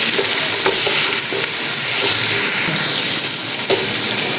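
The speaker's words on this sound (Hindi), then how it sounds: "इसके साथ ही आधे टमाटर हम इसके अंदर ऐड करेंगे और इसको अच्छी तरह रोस्ट कर लेंगे।" Tomatoes roasting in a pan with mutton for pulao, giving a loud, steady sizzle and hiss of frying, with occasional stirring scrapes close by and no talk.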